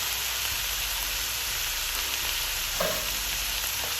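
Ground beef sizzling loudly in a pan over too-high heat, a dense continuous crackle with occasional sharper pops, close by and without voices.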